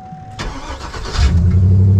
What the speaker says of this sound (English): time to find out if it starts with the new starter